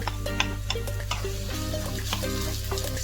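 Onions fry in a hot pan for cheesy potato balls, a steady close sizzle and crackle with scattered stirring clinks and scrapes throughout, no voices.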